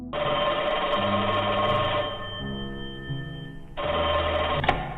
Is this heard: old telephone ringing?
yes